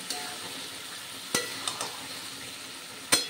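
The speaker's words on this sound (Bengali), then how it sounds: "এবার আলুর সঙ্গে মশলা খুব ভালো করে কষিয়ে নেব," Fried potatoes are stirred with spices in a pan for a Bengali dum pokto, a soft low sizzle running underneath while a utensil clinks and scrapes sharply against the pan a few times.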